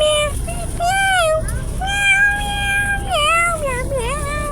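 A cat meows repeatedly at close range, long drawn-out wavering cries in a series of about four calls, over a low background hum.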